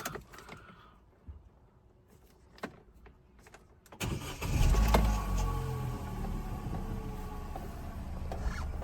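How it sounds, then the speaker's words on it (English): A Vauxhall/Opel Corsa engine cranks and fires up after a few quiet clicks and rattles, then settles into a loud, steady idle close by. "Now we will start car."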